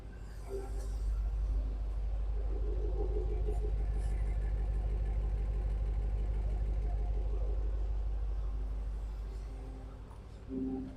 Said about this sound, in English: I do love the sound of the V8